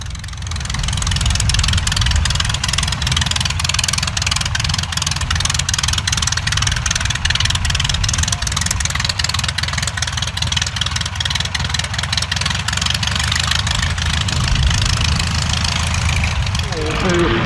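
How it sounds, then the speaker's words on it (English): A de Havilland DH-60G Gipsy Moth biplane taxis at a rally, its engine giving a loud, steady, throbbing drone with a rapid pulsing beat close by throughout, and a narrator speaks over it. "Taxi up in the DH-60G Gypsy Moth"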